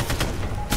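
Rapid gunfire in Ghost Recon Future Soldier, a quick close burst of several sharp shots crackling in under a second.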